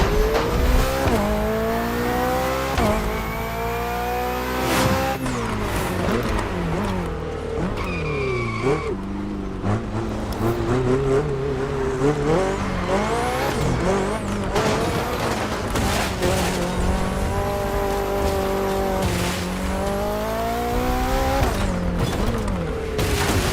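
BMW sports car in The Crew Motorfest racing game, its engine revving through rising and falling gear sweeps while tires squeal in repeated bursts, loud and continuous with a brief voice near the start.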